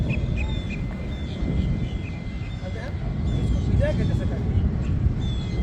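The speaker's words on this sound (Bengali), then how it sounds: "এই চমৎকার একটা পাখি" A bird calls near water in Florida, its thin, intermittent calls sounding at a moderate distance over a low, steady rumble of background noise.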